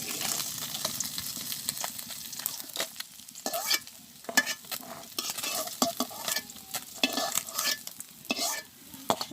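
Fish frying in a pan, a dense steady sizzle with frequent scraping and stirring clicks from a utensil, close and continuous with no talking.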